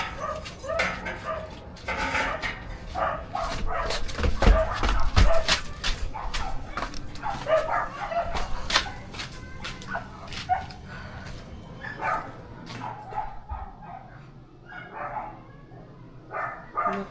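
Several dogs bark and yip close by in rapid, overlapping bursts, with some whimpering between them, loud and busy for most of the stretch before easing toward the end.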